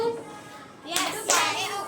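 Two quick bursts of hand clapping from a school class, sharp and close, with a little chatter before them.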